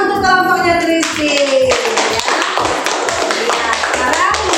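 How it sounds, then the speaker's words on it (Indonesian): Classroom applause for a group of children after their presentation: a burst of hand claps and taps mixed with voices and bright chatter, filling the room for several seconds. "Tepuk tangan untuk kelompoknya Kristi."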